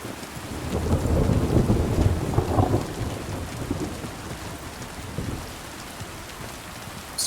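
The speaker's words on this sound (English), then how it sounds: "Some good sound and thunder right there." Thunder and steady rain in the medieval video game Kingdom Come: Deliverance 2, with heavy low rumbling and constant rainfall filling the first few seconds before easing into a softer, continuous downpour.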